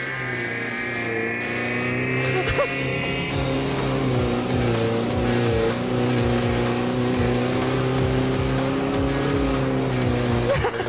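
Off-road jeep driving a trail inside the Caledônia condominium area, with a steady loud engine drone and rumbling wheels throughout, plus a faint high whine near the start.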